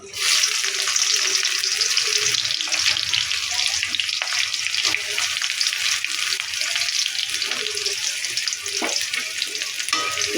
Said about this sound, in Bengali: পেঁয়াজটা হালকা করে ভেজে নিয়েছি